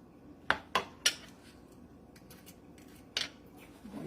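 A small mixing dish being handled at a craft table: three quick, bright clinks close together, a pause, then one more sharp clink, all fairly faint and close against a quiet room with no talk.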